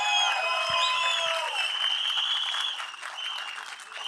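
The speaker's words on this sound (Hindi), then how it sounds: "डडली साहब के लिए एक बार जोरदार तालियां।" A large audience at a film trailer launch event bursts into loud, sustained applause that tapers slightly toward the end, with a brief low thump early on.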